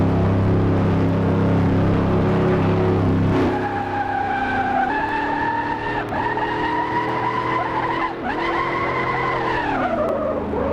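A Dodge Super Bee skids with sustained, wavering tire squeals after a loud engine roar, the screech rising and bending in pitch over about seven seconds, close and loud with no talking.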